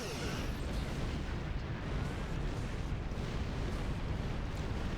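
A remote-detonated explosion in Star Trek Online, heard as a dense, sustained rumbling roar of blast and debris that fills the whole moment at steady loudness, with no voices over it.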